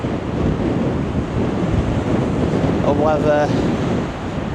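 Strong wind buffets the microphone over crashing surf along the Blackpool promenade, a steady loud roar throughout, with someone speaking briefly under the gusts.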